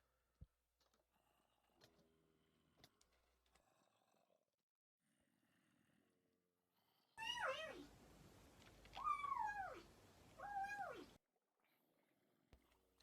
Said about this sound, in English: We do love cute little kitten noises.